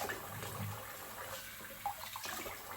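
Warm water running from a tap during a morning face wash, a soft steady hiss of the stream, faint and close, with small splashes from hands.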